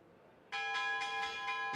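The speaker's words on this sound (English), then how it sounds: "It's back to this one then as we hear the 5-minute bell." A bell rings at a cricket ground to mark five minutes before play, a bright sustained metallic tone that strikes suddenly after near silence and pulses in repeated strokes, loud and close with no talk.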